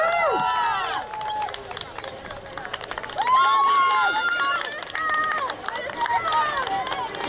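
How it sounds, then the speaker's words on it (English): Spectators at a recreation race cheer a runner toward the finish with whoops, shouts and scattered clapping, voices rising in waves at close range. "Let's cheer on this runner,"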